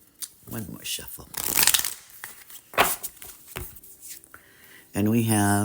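Oracle cards are riffled and shuffled in a couple of quick, crisp bursts near the listener, with lighter handling sounds around them. A brief tonal sound closes the moment.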